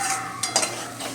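Data chorchori with jackfruit seeds is stirred and fried in a pan, giving a steady close sizzle broken by a couple of brief scraping strokes of the spoon.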